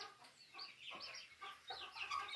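Chicks and hens at a small backyard coop cluck and peep in a continuous busy chatter, close and moderately loud, with no voices over it.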